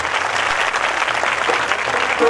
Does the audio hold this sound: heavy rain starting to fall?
no